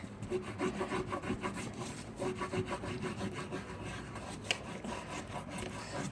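Quick, rhythmic scratchy rubbing strokes of a green coloring pencil scribbling across paper, steady and close for several seconds with no talking.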